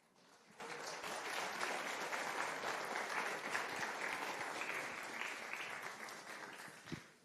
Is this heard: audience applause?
yes